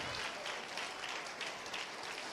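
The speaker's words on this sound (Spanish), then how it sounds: "póngase de pie y aplauda" A church congregation stands and claps together in dense, even applause, heard fairly faintly and without speech.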